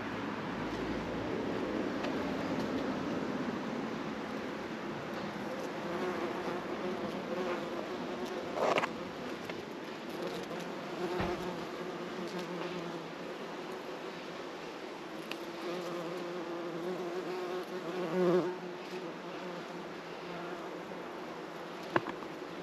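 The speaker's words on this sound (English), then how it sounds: "but it's a tree full of bees" Bees swarm in a tree beside a church on a country road, a soft continuous outdoor buzz with a few louder passes as individual insects fly close, and no one speaking.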